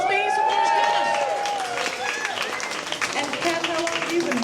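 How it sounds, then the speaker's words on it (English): Comedy show audience in Berlin applauding for a few seconds, a moderate burst of clapping that thins out, partly overlapping a host's amplified voice. "Round of applause, please, for Polish Kat."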